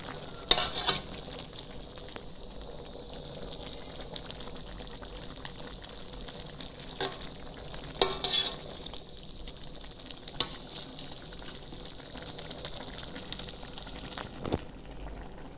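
A pan of cassava leaves cooking in coconut milk sizzles steadily, broken by occasional sharp scrapes and clacks of stirring. It sounds close and moderate in level, with no talking.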